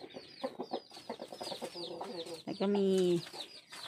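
Black chickens cluck and call in a simple coop enclosed with green shade netting, a busy run of short clucks ending in a louder drawn-out call, while someone talks nearby.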